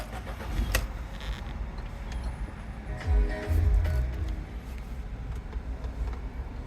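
A 2009 Audi A4 Cabriolet S-Line engine cranks and catches with a brief low burst, then idles quietly, with faint clicks and handling noises around it.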